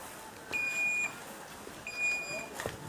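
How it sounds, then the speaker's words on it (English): Alarm on a Ghanaian-made automatic hand washing machine built against COVID-19, giving two sustained electronic beeps, each about half a second long, spaced over a second apart over faint background clatter. "As soon as the alarm goes off, the water follows."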